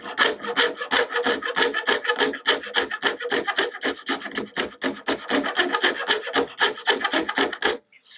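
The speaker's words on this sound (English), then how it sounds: "what I quite like is the little rat tail raspy thing" A small rat-tail rasp files a wooden guitar neck in quick, steady rasping strokes, about three per second, close and loud, stopping abruptly near the end.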